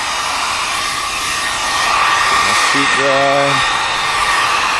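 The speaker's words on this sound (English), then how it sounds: "bring a hair dryer" A hair dryer blows a steady, loud whooshing stream close by, with a person briefly speaking over it partway through.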